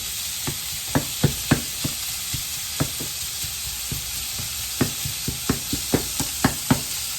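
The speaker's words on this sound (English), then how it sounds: "Just gotta break it up in the pan. This is gonna cook 2 to 3 minutes." Thin shredded steak sizzles in a hot pan while a utensil breaks it up, sharp knocks and scrapes landing in irregular bursts over a constant close frying hiss.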